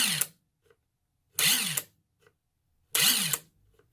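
A Tenwa impact wrench runs in reverse to loosen a fastener, firing three short, loud whirring bursts spaced evenly, each cut off abruptly, with near silence in between.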